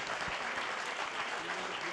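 An audience at a stage event breaks into applause, a brief, dense wash of clapping that holds steady at moderate level, heard from within the hall.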